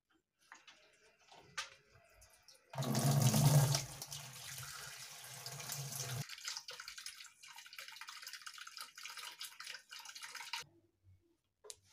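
Water gushes into a Ramtons twin tub 8 kg washing machine, model RW 115, a loud steady pour that later softens to a lighter trickle before stopping, with small knocks around it.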